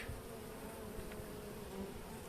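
Honeybees buzz steadily around an old Vafı Kebir-style wooden hive in an apiary, a dense, continuous hum that is fairly faint and heard alone.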